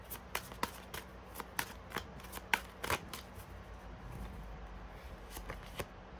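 Tarot cards are shuffled and riffled in an irregular run of crisp flicks and snaps, close and fairly quiet, thinning out toward the end while a faint steady hiss sits underneath.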